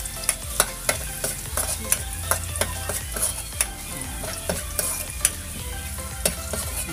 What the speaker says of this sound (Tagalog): gigisa natin muna